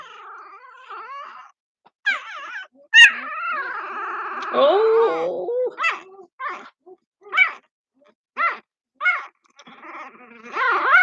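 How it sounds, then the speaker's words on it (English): A small dog makes a soft, intermittent growling, short rumbly bursts repeated through the stretch, close by, while someone speaks briefly in between. "He's like doing this little growling thing"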